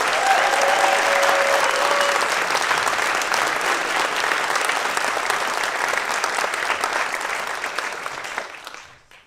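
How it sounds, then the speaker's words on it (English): Large audience applauding at a Carnegie Mellon Racing car rollout event, a dense sustained roar of clapping that holds steady then fades out near the end, with a brief whistle-like tone early on. "Could we get another massive round of applause for all the engineering that has gone"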